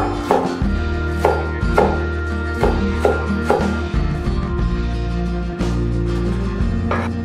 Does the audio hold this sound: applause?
no